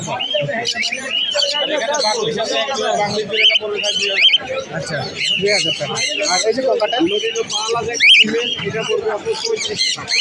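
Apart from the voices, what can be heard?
birds chirping at a bird market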